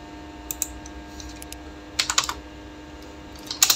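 Fingers type on a computer keyboard in short clustered bursts of clicky keystrokes, close and fairly crisp, separated by quiet pauses and with no talking.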